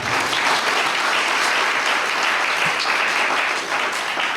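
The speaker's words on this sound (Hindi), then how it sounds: "तालियां बजाओ यार।" A concert audience claps steadily in loud, dense applause that fills the whole stretch, with no gaps.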